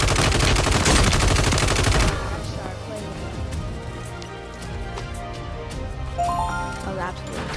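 Ram-9 gunfire in the video game Warzone opens as a loud dense burst of rapid shots, then gives way to quieter scattered game sounds and effects, with voices talking over it.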